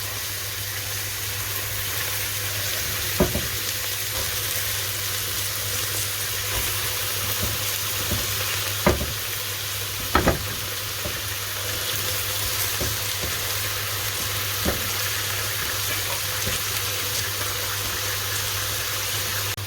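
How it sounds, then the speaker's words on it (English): Capsicum and zucchini sauteing in a pot, a steady soft sizzle with occasional clinks and stirring knocks, close and continuous with no talk. "So the vegetables have been sauteing for around 3 minutes now."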